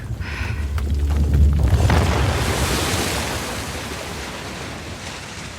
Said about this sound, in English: There be water.